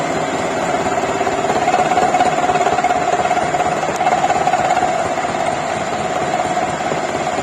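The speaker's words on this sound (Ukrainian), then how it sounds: "Погнали, фрезеруємо. Так, все, грані фрезеруються." A milling machine cuts the flat faces of a custom bolt, giving a steady, loud mechanical drone with a sustained tonal whine and constant vibration throughout, no pauses and no talk.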